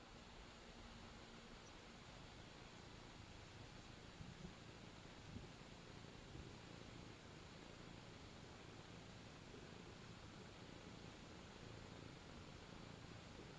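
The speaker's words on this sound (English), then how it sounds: "I'm petting the cat. The cat needs love. She's purring" A cat purrs softly and steadily while being petted, a low, faint continuous rumble under a hiss of background noise, with no talking.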